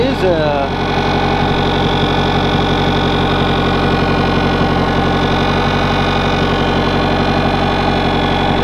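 Yamaha outboard motor running steadily at idle after earlier vibration, a loud continuous engine drone with even harmonic hum throughout.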